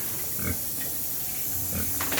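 A farm pig grunts in short, low bursts, a few snorting sounds spaced through a steady background hiss, fairly close and moderately loud.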